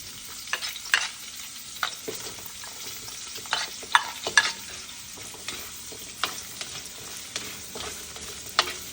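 Onions and ginger sauteing in a pan for Filipino salmon belly sinigang, a steady close sizzle broken by frequent spatula scrapes and stirring clicks, with no talking.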